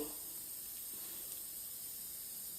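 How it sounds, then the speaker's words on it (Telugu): Peanuts fry in a pan with a soft, steady hiss and sizzle that stays constant and fairly faint throughout, with no voices. "పల్లీలు కూడా బాగా వేగాలి చూడండి"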